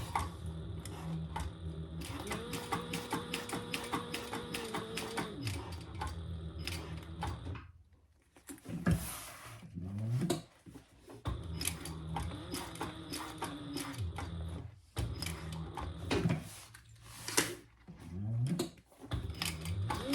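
A sewing machine stitches a Babi Boxy bag in fast rhythmic bursts, running a seam, pausing, then back-stitching in shorter runs, close and fairly loud with no talk.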